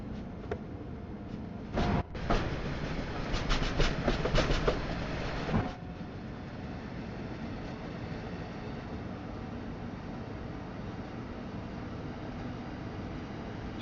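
Amtrak train in a Long Island Rail Road-themed video game, a steady rolling rumble with a burst of rhythmic clacking and rattling near the start that then settles into an even drone, with no voices.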